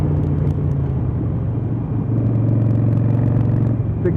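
A Harley-Davidson Iron 883 motorcycle being ridden, its engine giving a steady low rumble with a continuous drone and road noise throughout, close and fairly loud, no talk.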